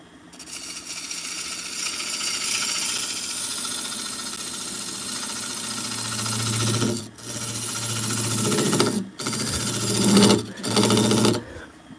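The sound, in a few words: skew chisel cutting wood on lathe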